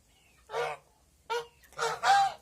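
Geese honk in four separate calls, a single honk, a pause, another, then two back-to-back honks, moderately close with quiet surroundings.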